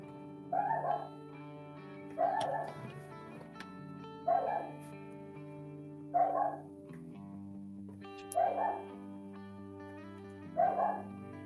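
A dog barks in short, spaced bursts, about six barks with pauses between them, over a steady background hum and faint music-like tones.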